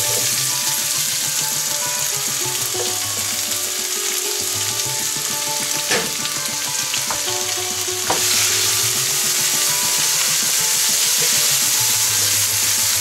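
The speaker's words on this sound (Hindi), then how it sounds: "फुटण फुटी सारा परे आमे पियाज पकेबा" Onions fry in a pan after a spice tempering for an Odia janhi aalu posta curry, a loud, close, continuous sizzle with repeated spatula scraping and occasional metallic knocks against the pan.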